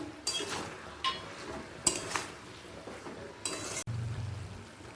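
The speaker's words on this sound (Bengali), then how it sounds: "দশ মিনিট পর সবজিগুলোকে একটু ওপর নিচ করে দেব" Vegetables for labra are stirred in a pan with a metal utensil, giving a few scattered scraping clinks and brief rustles over a faint background, with no talk.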